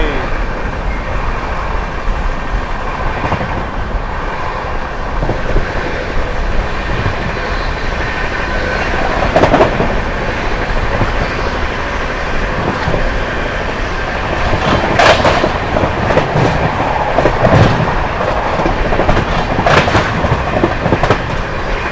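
Barauni New Delhi Clone Express train running at full speed, about 130 km/h, heard as a loud, continuous rumble and roar from onboard, with rhythmic rattling, clanks and wind noise throughout.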